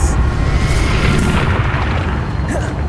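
A Confringo explosion spell cast in Hogwarts Legacy erupts as a loud, dense, continuous roar of booming blasts that barely lets up.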